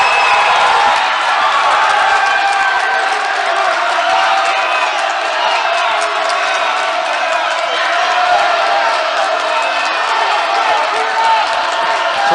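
Crowd cheering and roaring steadily throughout a college basketball game at an NCCAA North Region Tournament game, loud and continuous with whoops and scattered clapping.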